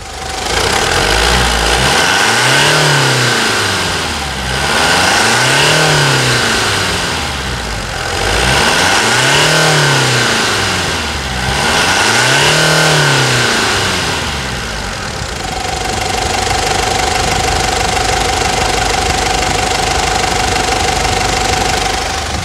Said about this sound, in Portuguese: Vamos escutar a melodia desse motor da Mitsubishi, da Triton aqui.